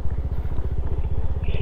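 Motorcycle engines chug with a steady rapid pulsing as the bikes ride over a rough road, close and fairly loud, with some rattling from the bumpy surface.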